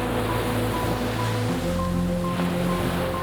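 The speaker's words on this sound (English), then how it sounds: "only the sound of crashing waves echoing even inside the rooms" Ocean waves crashing beside a mangrove forest, a continuous loud wash of surf with steady rumble throughout.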